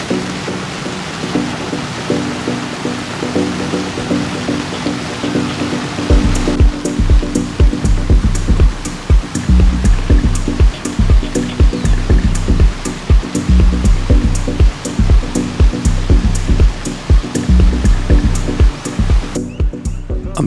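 Heavy rain pours onto the sea during an Atlantic sailing crossing, making a dense, loud rushing hiss that steadies into constant pounding with wind noise over a long stretch.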